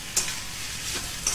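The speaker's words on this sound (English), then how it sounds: "Yes, put the okra in. Then you can turn your heat high." Okra hitting a hot pan over high heat with a pinch of sugar and salt, a steady faint sizzle broken by two brief sharp spatters, no voices.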